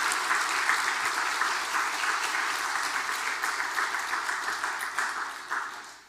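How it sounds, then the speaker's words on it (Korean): A church congregation gives a sustained round of applause during Sunday worship: many hands clapping in an even, dense patter that holds steady and then tapers off at the end. "박수 한번 해주시죠"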